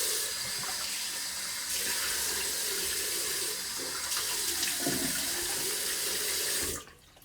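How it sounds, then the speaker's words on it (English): Tap water running into a sink while rinsing alum off after shaving, a close, steady splashing rush that stops abruptly near the end. "Let's wash that alum off."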